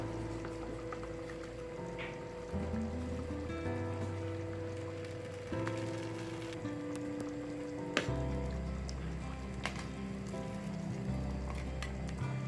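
Steady bubbling and sizzling of Tamil fish curry (meen kuzhambu) simmering in a pot, continuous and close, with a low hum of kitchen background and occasional clinks.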